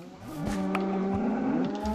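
A donkey in the Minecraft video game brays with a harmonic, drawn-out call lasting about two seconds, moderately loud and close, with no speech over it.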